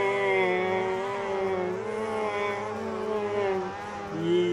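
A droning video game motorbike engine from Xtreme Motorbikes hums steadily with a rising and falling pitch, like a motorbike holding speed and easing through gears, continuous and moderately loud.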